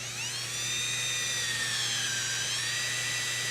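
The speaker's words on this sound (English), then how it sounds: "Anytime we're drilling a hole, you always push as hard as you can reasonably push." Power drill boring a hole through overlapped sheet metal at a seam, a steady high whining tone held for a few seconds, close and continuous with no talk.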